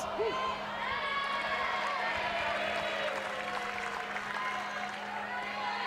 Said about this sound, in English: This crowd, they are loud and they are cheering for the Aggies.